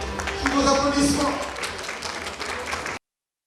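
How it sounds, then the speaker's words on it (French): Applause at an awards ceremony sounds under a loud voice, mixed with crowd noise, and cuts off abruptly to silence after about three seconds. "Abidjan Spa, sous vos applaudissements."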